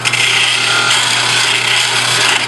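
A small detail gouge cuts into wood spinning on a lathe, giving a continuous, even hissing scrape that stays loud and close without a break.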